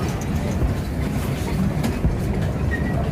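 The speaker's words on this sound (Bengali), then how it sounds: "ট্রেন ছাড়বে এখন, এই ট্রেন ছেড়ে দিয়েছে" A small water park ride train running along its track, a steady rumbling roll with faint clatter throughout, fairly loud and continuous with no talking.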